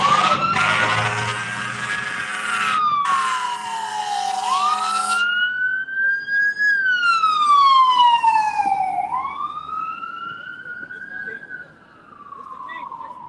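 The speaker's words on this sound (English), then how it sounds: "You got fucking sirens and all type of noises and shit." Wailing and yelping sirens from emergency vehicles sweep up and down outside, loud and continuous, with traffic rumble beneath and people talking nearby.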